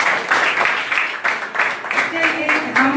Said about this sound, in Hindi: वेरी गुड, जोरदार तालियां मिलके लिए।